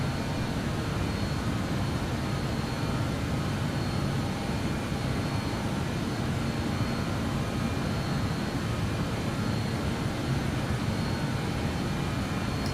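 BAe 146 jet engines in Microsoft Flight Simulator spool up during a climb acceleration, a steady, dense broadband roar holding at an even loud level throughout, with no voices.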